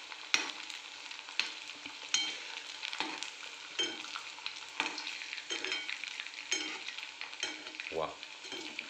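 Spicy cabbage pakoras deep-fry in oil, an even bubbling crackle broken by repeated sharp clinks of a metal spoon or strainer against the pan, close and moderately quiet, with a brief thud near the end and no speech.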